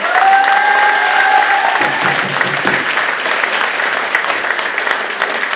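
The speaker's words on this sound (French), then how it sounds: "On peut l'applaudir aussi." Steady, dense audience applause at a 2013 sixties-themed dance school gala in Jandrenouille, sustained clapping filling the hall for several seconds at an even level.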